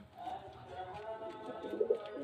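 Pigeons at a village pigeon sale coo softly in a short, close burst of low throaty calls, with faint background murmur.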